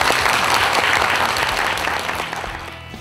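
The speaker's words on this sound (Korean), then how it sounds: "박수 한번 주세요" An audience claps enthusiastically, dense applause that holds steady then gradually fades out.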